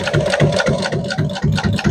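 A sewing machine runs steadily through fabric on a large cover seam with a wide seam allowance, its motor humming with a fast, rhythmic mechanical chatter from close by, no voices.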